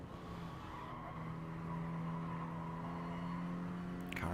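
A Mini Cooper race car braking hard at Goodwood, its engine droning steadily with a sustained tone and light tyre scrub, near and continuous, then a brief bump at the end.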